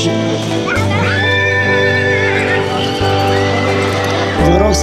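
A four-year-old roan horse at a horse beauty contest in Osorhei, Bihor, neighs loudly in a long whinny, then neighs again near the end, close by, while someone talks over a loudspeaker throughout.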